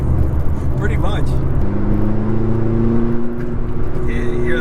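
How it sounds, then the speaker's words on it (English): Turbocharged engine of a McLaren MP4-12C supercar pulls hard while driving, a steady rising whine and hum building inside the cabin, loud and close, with people talking over it. "You hear those turbos kick in?"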